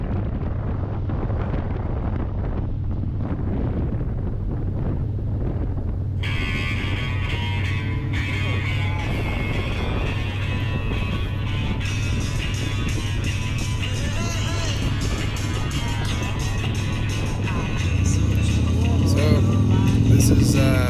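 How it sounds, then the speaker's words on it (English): Heavy road traffic streaming past a rider on a motorcycle trip, a continuous loud roar of vehicles mixed with buffeting wind noise that swells toward the end; someone speaks over it. "Did I mention there's a lot of traffic? It just keeps going."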